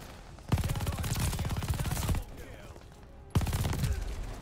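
Submachine gun fire in the video game Call of Duty Vanguard, two rapid bursts of loud, close automatic shots, the first lasting over a second and a half, the second starting near the end after a short gap.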